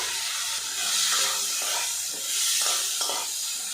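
Drumstick stalks go into a cooked tomato masala and are stirred in a pan, a loud continuous sizzle and hiss with occasional scraping clatter as the mixture is turned.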